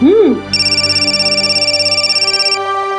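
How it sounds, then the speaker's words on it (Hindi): A phone ringtone rings steadily with a repeating electronic tone, loud and close, after a short burst of music-like sound at the start. "आ गया फोन दामाद जी का, जा।"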